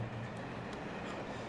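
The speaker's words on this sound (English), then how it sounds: "I had this horrible second where I thought the train was coming for me." A train rumbles toward the player in the video game Alan Wake Remastered, a steady low mechanical roar with a faint rhythmic rattle of rolling stock, close and continuous throughout with no voices.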